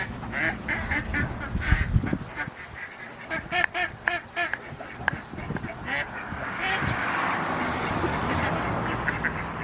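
Ducks quacking around a chicken and duck feeding area, repeated nasal quacks and honks in irregular bursts, fairly close, over a background of rustling and shuffling movement.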